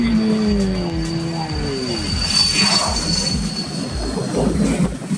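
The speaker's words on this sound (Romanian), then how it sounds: "S-a pus bariera, trece avionul." Jet airliner roaring past at the Gibraltar airport runway road crossing, a loud sustained rumble swelling and lingering throughout, with a whining tone near the start and faint voices underneath.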